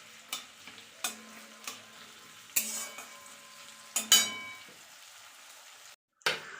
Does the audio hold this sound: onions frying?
yes